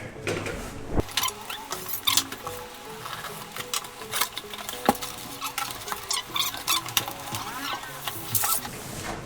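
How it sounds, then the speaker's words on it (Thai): Unboxing of a Thermaltake S100 TG PC case: a busy run of crinkling plastic, cardboard scrapes and soft knocks, close and irregular, with a voice talking over parts of it. "มาเราเปิดกล่องกันเลย"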